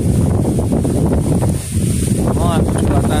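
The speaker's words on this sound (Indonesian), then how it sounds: "Anginnya kencang." Strong wind blowing outdoors near water where children play with little boats, buffeting the microphone in a loud, steady low roar that dips briefly midway, then surges back.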